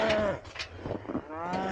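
Cattle in a herd moo in overlapping calls, several drawn-out lows following one another closely, moderately near on a farm paddock with no talk.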